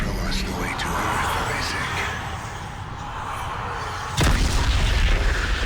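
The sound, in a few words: shooting at a glowing gold marker in video game Dead Space 3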